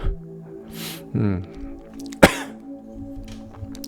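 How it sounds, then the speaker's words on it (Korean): A couple of short, muffled coughs and throat-clearing sounds from one person, close by, amid quiet rustling. "아직도 기침이."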